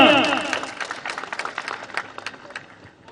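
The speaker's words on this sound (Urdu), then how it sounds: "زبردست، بھرپور تالیاں۔" Audience applause at a political speech: a brief voice opens, then dense, uneven clapping rolls on steadily at moderate loudness before slowly thinning out.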